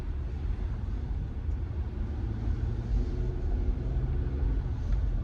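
A car on the move gives a continuous low engine rumble and road noise from inside the cabin, steady and fairly loud throughout with no talking.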